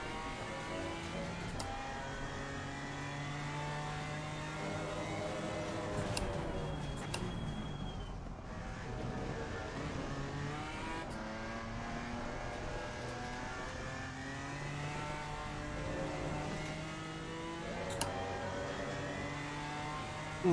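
Race car engine in Assetto Corsa Competizione on Xbox Series X/S, a steady sustained drone with shifting harmonic pitch as revs rise and fall, continuous and fairly close, with a few faint ticks and no talk.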